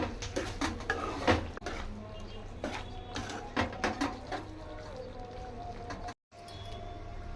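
A coconut powder brinjal curry being stirred in a pan, with repeated metallic scrapes and clinks of a spoon against the pan in an irregular rhythm, close and clear, with a brief dropout near the end.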